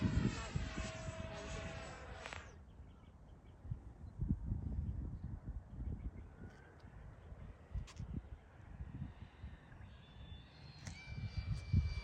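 A Freewing MiG-29 RC jet motor runs at half throttle with a high, steady whine for a couple of seconds before cutting off, leaving outdoor wind rumble and faint, brief tones.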